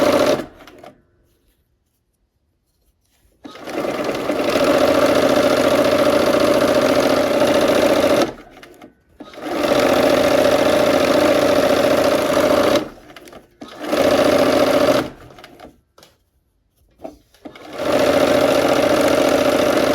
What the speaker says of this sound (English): I'm going to sew with the seams on the top.